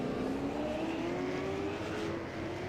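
Super late model race cars roar around a Wisconsin oval as several spin out, engines droning at a steady distance with a faint rising whine over the rumble.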